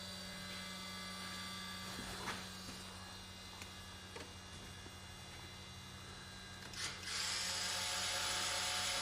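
An electric elevator trim actuator running on an Avid Flyer kit aircraft gives a faint, steady mechanical hum with occasional small clicks, shifting to a brighter whirring tone near the end.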